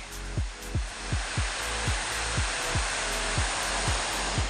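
Waterfall throwing up spray, a steady, loud rush of water that fills the whole clip. Faint, evenly spaced chirps repeat over it, and no one speaks.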